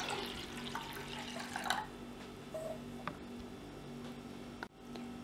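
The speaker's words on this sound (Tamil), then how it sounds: "இப்போ இதல நல்ல தண்ணி ஆட் பண்ணிடலாம்." Water is poured onto washed dal in a home kitchen pot, a brief splashing pour near the start followed by quieter trickles and a few small clinks.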